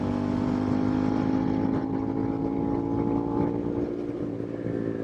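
Suzuki SV650 motorcycle being ridden, its engine holding a steady, loud drone with a sustained tone and slight shifts in pitch, heard from close up without any voices.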